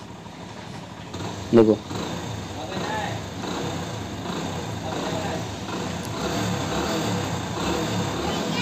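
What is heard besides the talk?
Hero motorcycle engine running after timing chain change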